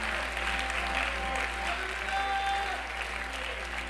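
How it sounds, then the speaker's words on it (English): A church congregation applauding together in a hand clap of praise, a dense continuous wash of many hands clapping at a steady level, with some murmured voices mixed in. "Let's give the Lord a hand clap of praise"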